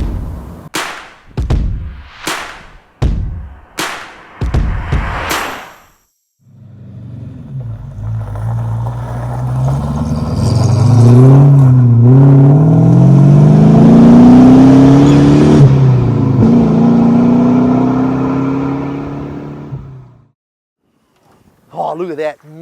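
A Holden VT Commodore with a 3.8 litre naturally aspirated V6 is driven hard, its engine note climbing through several rising revs for about fourteen seconds. A person talks briefly before it starts.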